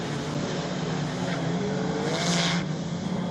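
Retro rallycross cars race at Lydden Hill, among them Mark II Escorts and Minis, a continuous engine roar with rising revs and a brief surge near the end, heard from trackside at moderate distance.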